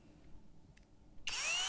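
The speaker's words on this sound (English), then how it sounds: "I use the drill just to mark through these holes." A power drill bites into a guitar body to mark through holes for a custom multi-scale Strat build, a sudden loud whine that starts after a quiet stretch and keeps running steadily.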